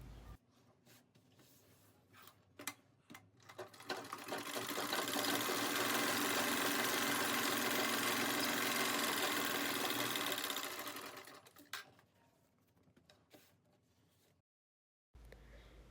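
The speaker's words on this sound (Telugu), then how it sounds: "ఇప్పుడు హ్యాండ్స్ కింది పార్ట్ స్టిచ్ చేస్తున్నాను" A sewing machine stitches saree fabric with lining, starting in short bursts, then running loud and steady for several seconds before slowing to scattered stitches and a pause.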